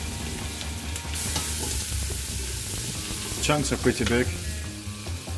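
Carrot chunks tossed into a hot pan for beef cheeks raise a steady, close frying sizzle that swells briefly midway, while someone talks over it.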